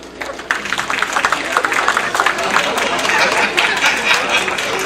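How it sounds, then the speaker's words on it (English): A comedy show audience bursts into applause, dense clapping mixed with cheers and crowd noise that builds and holds steady in a live room. "Where are my geezers tonight? By applause."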